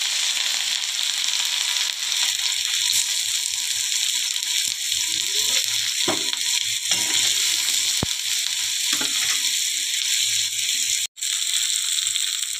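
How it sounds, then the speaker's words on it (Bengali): Panch phoron and chopped onion frying in hot oil in a wok, a steady loud broadband sizzle with occasional faint stirring scrapes and clicks throughout. "কড়াইয়ের তেল গরম হয়ে গেছে, এখন হচ্ছে আমি পাঁচফোড়ন দিয়ে নিলাম, তারপর হচ্ছে এই পেঁয়াজ কুচোটা দিয়ে দিলাম"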